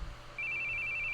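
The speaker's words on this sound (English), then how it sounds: "Where are you hearing a phone ringing?" A telephone rings with a bright electronic trill that starts abruptly and continues steadily, loud and close, with no one speaking.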